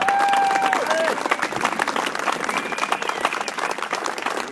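A large crowd at a motorcycle festival gives a sustained, loud ovation of dense clapping with a few scattered cheers and whistles, steady throughout.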